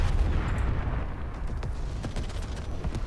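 Sustained artillery fire and booming blasts from a massive modern-warfare battle in a strategy game, with Abrams tanks and artillery units firing continuously; dense, rumbling barrage with repeated sharp reports over a constant low roar.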